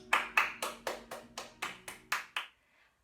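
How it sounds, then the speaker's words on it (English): A single person claps nine times in a steady, evenly spaced rhythm during a creative dance session for young children, each clap crisp and close before silence. "can we bring our hands together and can we have a big round of applause?"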